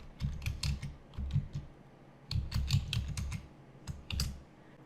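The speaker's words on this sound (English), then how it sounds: "I'll just start typing it here." Computer keyboard keys tapped in quick bursts of clicks while a LaTeX document preamble is being typed, with a short pause between two clusters of keystrokes, close and fairly quiet with no talking.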